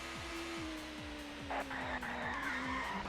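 In the ToCA Touring Car Championship video game at Oulton Park, a racing car spins out with sustained tire skidding over a rhythmically pulsing engine drone, loud and continuous without speech.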